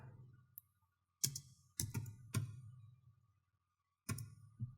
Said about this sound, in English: We're going to be able to do this by typing in the following